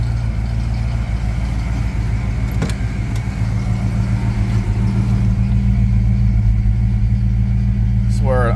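A Vortech-supercharged Foxbody Mustang with an intercooler idles close by, a loud steady low rumble with slight lope, joined briefly by a few faint clicks and a short squeal near the end.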